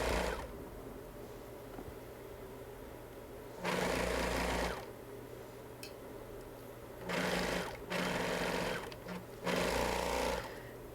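A serger overlocker runs in loud bursts of rapid stitching along a hoodie's hood seam, three or four runs separated by short pauses in a quiet room.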